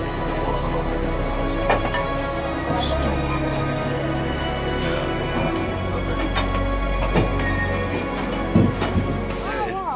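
Rocky Mountaineer passenger train running on rails, a steady low rumble with metallic wheel squeals and occasional clanks, heard from aboard with faint voices in the background.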